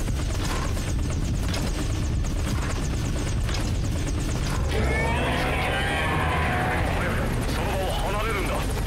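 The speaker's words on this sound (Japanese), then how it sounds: "支援ヘリが敵に見つかった" A support helicopter in Metal Gear Solid V: The Phantom Pain thunders with a loud, steady rotor roar close by, joined by game voices and other in-game sounds partway through.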